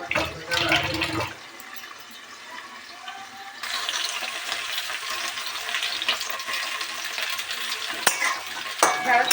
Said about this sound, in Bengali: ঢেঁড়সটা ভাজা হতে সময় লাগে